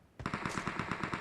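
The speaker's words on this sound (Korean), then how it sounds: "총소리 오른쪽에서 들리죠?" Rapid bursts of gunfire in the mobile game PUBG Mobile, a steady automatic stream of evenly spaced shots that starts abruptly and continues at moderate loudness.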